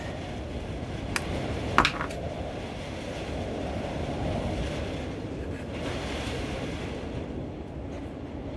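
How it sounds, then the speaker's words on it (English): Steady outdoor wind rumbling and buffeting against a microphone, a continuous low roar with a couple of brief sharp knocks early on, no talking. "Man, it's windy."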